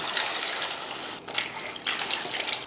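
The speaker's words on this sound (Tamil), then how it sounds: "சேர்த்துட்டு இப்போ தண்ணி போட்டுடலாம் இதில் ஒரு கப் தண்ணி" Water is poured steadily into a pot of chicken mince and macaroni for a one-pot pasta, a continuous splashing rush close by with slight dips in the flow and no talking.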